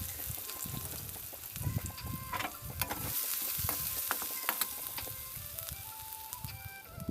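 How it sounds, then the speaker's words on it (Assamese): Cumin and garlic sizzle in hot oil left from frying potatoes for tempering dal, a soft, steady crackle with scattered pops and a few stirring clinks, heard close and fairly quiet. "আলু ভাজা তেলখিনিতে মই জিৰা আৰু নহৰু দি দালিখিনি তেল মাৰি ল'ম।"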